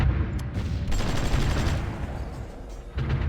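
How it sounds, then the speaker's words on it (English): Artillery fire in a video game battle, a dense, continuous rumble of booming blasts and crackling gunfire that stays loud throughout, with a brief dip near the end before it swells again. "right, that's our artillery."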